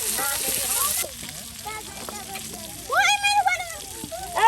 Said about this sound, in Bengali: এই যে মাছ কিন্তু একদম ভেজে ভেজে নেওয়া হচ্ছে